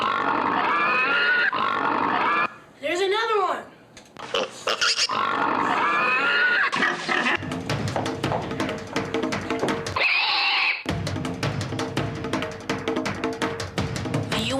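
A pig grunts and squeals loudly in a rapid series of calls mixed with higher whinny-like cries, with brief gaps and a noisy stretch toward the end; no one speaks.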